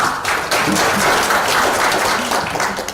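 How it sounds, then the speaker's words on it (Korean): An audience at a presentation in the National Assembly members' office building in Korea breaks into brief, steady applause, many hands clapping in a dense burst for about three seconds. "박수 부탁드립니다."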